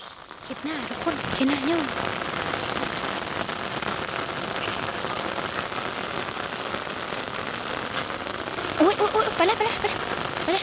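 Steady rain patters heavily on the ground and surfaces for the whole stretch, with a few brief voices or calls rising above it near the start and end.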